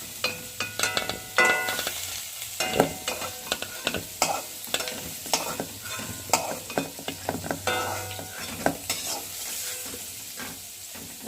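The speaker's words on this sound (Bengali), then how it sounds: "ওদিকে ভাজা হচ্ছে আর এইদিকে আলুটা ভাজা হয়ে গেছে" Potatoes frying in hot oil in a home kitchen, a steady sizzle broken by repeated scraping and clattering stirs of a spatula in the pan, close and fairly loud with no talk.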